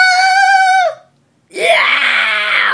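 A singer's high-pitched vocal fry scream, first a sustained harmonic-rich tone that drops off, then after a brief silence a second rough, gritty, noisy scream, loud and close.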